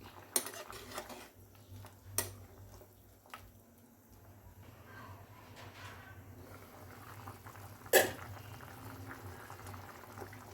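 Mutton leg soup bubbles on a stovetop with a low, steady simmer, faint and close, broken by a few soft clinks and one sharp knock, with no talk.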